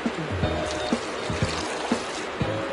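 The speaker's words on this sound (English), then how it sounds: "I'm going to add a cup of filtered water to get a smooth juice." Filtered water pours onto mint leaves and ginger for juice, a continuous trickle with soft rhythmic splashes repeating about every half second, close and moderately loud.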